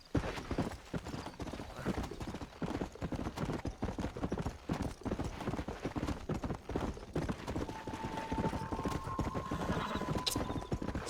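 Galloping horse hooves in the Western video game Red Dead Redemption, a rapid, continuous clip-clop rhythm close up for the whole stretch, with a brief tonal whistle-like note entering toward the end.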